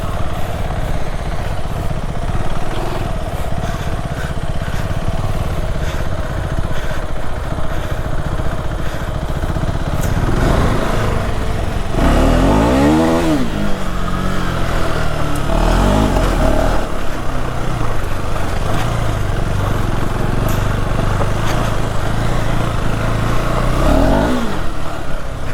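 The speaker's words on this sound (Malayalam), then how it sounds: "കംപ്ലീറ്റ് വീൽ സ്പിന്നിങ് ആണ് കേട്ടോ, ഒരു രക്ഷയില്ലാത്ത വീൽ സ്പിന്നിങ് ആണ്." KTM off-road motorcycle spinning its rear wheel in dirt at an off-road event, a close buzzing engine that revs hard in rising and falling surges, with a few sharp throttle bursts midway and near the end.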